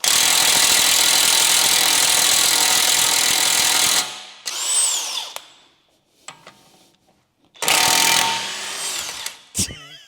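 A pneumatic-style impact wrench hammers at a tight bolt on an Audi RS engine-swapped VW Caddy, a loud sustained rattling burst for about four seconds, then two more short bursts after a pause.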